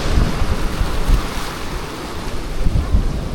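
Sea waves at Harihareshwar beach wash and splash steadily onto the shore, a loud, continuous surf roar with gusting wind buffeting the microphone and no voices.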